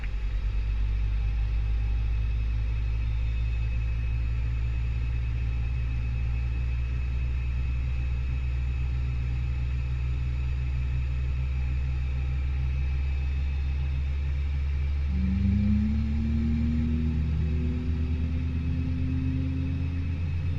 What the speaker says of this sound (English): Turning engine 1. Enjoy the amazing startup sounds.